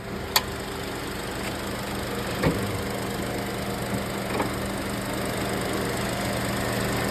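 The engine of a Suzuki Hustler runs at a steady idle, a constant even drone close by, broken by a few faint knocks and clicks.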